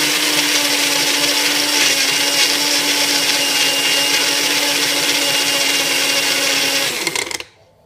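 A JCPenney Cooks bullet-style blender whirs steadily as it purees half a banana, a loud, constant motor drone with a steady hum that runs nearly eight seconds before cutting off abruptly at the end.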